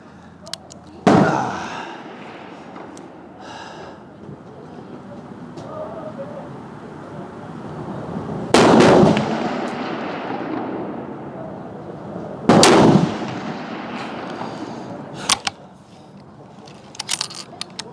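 Three sharp, loud rifle shots from a Swiss Martini Jagdstutzer fired at a 300 m range, each a close crack with a short decaying tail, spaced several seconds apart, with lighter clicks of handling between and no talk.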